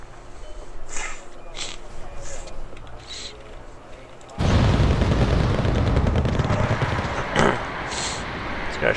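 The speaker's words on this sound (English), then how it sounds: "Launching artillery out to Tunguska." Artillery launches toward Tunguska in a combat setting, heard as scattered distant thumps, then a sudden loud sustained roar of firing and rumble that continues to the end.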